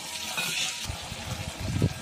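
Ginger paste with cumin and turmeric being stirred and fried in a pan for Bengali cholar dal, a faint sizzle with soft scraping stirs and a few brief clinks, quiet and close.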